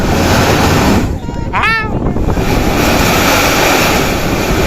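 Seawater bursts from a blowhole on the Salalah coast in Oman, a loud, steady rushing roar of surf and spray buffeted by wind, with a brief wavering tonal sound cutting through near the middle.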